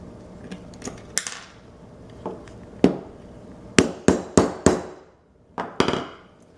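Metal eyelet being set into cosplay fabric with a tool, a series of sharp, close hammer strikes in uneven bursts, several fast blows clustered together with quieter taps between.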